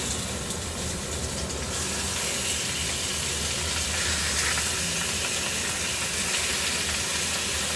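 Fish pieces fry in hot oil in a pan, giving a dense, even hiss that stays loud and constant from start to finish, with no talking.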